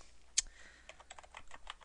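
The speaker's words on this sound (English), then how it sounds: "we're going to type in our article name" Quick light keystrokes on a computer keyboard while an article title is typed, a soft close patter of clicks with one sharper tap early on.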